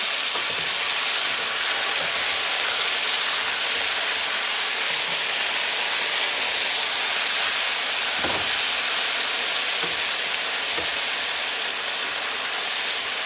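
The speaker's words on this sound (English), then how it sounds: "We put the lid and let the potato fry." Pork chops and potatoes frying together in one covered pan, a steady, even hiss of sizzling fat that runs unbroken and fairly loud, with a few faint clicks and bumps underneath.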